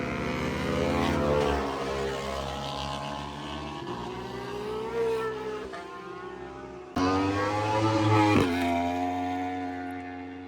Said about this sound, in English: It's just music listening to these motorcycles.